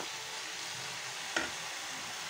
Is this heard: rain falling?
no